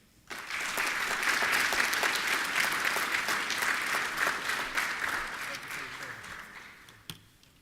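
Audience at an armed services ceremony breaking into sustained applause for servicemen and women, a dense wash of clapping that swells quickly, holds steady for several seconds and tapers off at the end.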